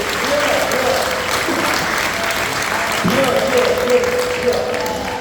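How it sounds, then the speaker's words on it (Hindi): Audience clapping at a Hindi kavi sammelan poetry gathering, loud, dense and sustained applause with a tonal hum running beneath it throughout. "दोनों हाथ उठा करके तालियां बजाइए"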